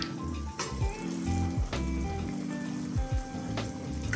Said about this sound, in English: Let's cover for about 40 seconds till the beaten eggs are fully cooked.